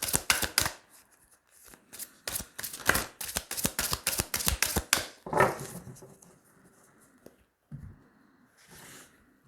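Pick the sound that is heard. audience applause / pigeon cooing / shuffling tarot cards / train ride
shuffling tarot cards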